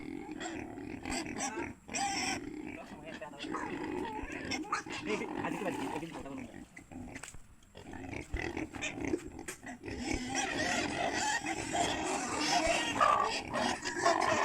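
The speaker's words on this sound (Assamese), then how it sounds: "এইবিলাক গাহৰি" Pigs grunt and snort continuously at close range on a small pig farm in Darrang, Assam, with a busy, rough background of farm noise and voices mixed in.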